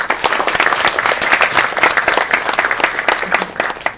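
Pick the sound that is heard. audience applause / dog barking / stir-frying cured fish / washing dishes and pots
audience applause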